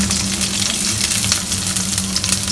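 Garlic and small shallots fry in groundnut oil for a country-chicken gravy, a steady close sizzle with dense crackle running throughout, with no voices.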